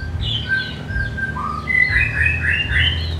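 A white-rumped shama (murai batu), an inexpensive caged songbird, sings a series of bright chirps and whistled phrases, fairly close, over a steady low background hum.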